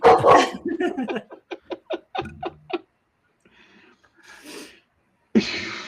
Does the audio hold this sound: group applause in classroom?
no